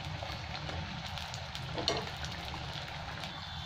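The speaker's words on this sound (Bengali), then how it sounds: "এখানে আমি ভাজতে শুরু করে দিয়েছি, তেল খুব গরম হয়ে গেছিলো তাই দিয়ে দিয়েছি।" Semolina and potato filled snacks frying in very hot oil, a soft continuous sizzle and crackle that stays steady and fairly quiet, with one brief louder pop partway through and no talking.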